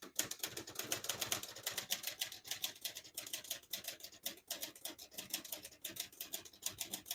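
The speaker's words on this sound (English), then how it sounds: "I'll type a sentence in red on the next line and switch from black to red." Rapid keystrokes on a 1969 Olivetti Lettera 31 portable manual typewriter with a two-colour ribbon set to red, a steady, close run of crisp clacks with no voices.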